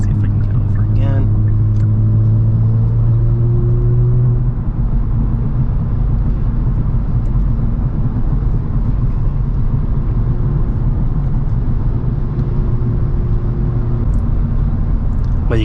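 A 2022 Kia Stinger GT2 fitted with a Borla active valve exhaust cruises at highway speed. A steady, subdued engine and road drone fills the cabin while a person talks over it.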